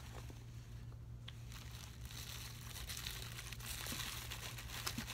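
Plastic wrapping on a new tripod's packaging crinkles and rustles close by as it is opened, with irregular crackles that grow a little busier toward the end; no talking.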